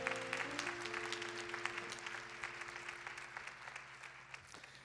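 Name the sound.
congregation applauding to bless a couple's wedding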